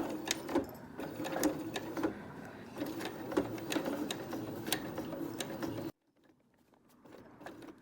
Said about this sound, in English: Then we're going to sew all the way around this oval shape, pretty close to the edge.